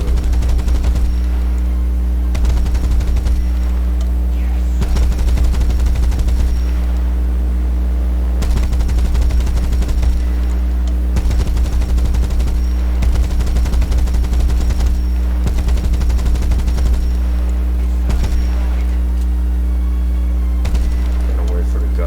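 Anti-aircraft autocannon on an Sd.Kfz.251/21 half-track in War Thunder, firing loud, sustained bursts of rapid shots over a constant heavy engine drone for the whole stretch.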